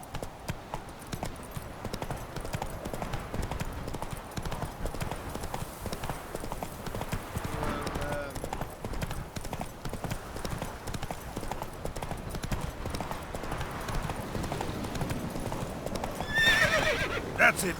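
Galloping hooves of the horse in The Witcher 3 video game, a steady fast clip-clop rhythm filling the whole stretch with a brief whinny near the end, up close and loud over game ambience.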